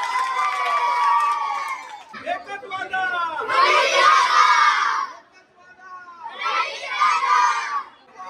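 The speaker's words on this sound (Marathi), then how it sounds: "एकदा टाळ्या वाजवू द्या" Crowd at a Navratri celebration cheering and shouting, with children's voices prominent, rising in two loud bursts separated by a brief lull.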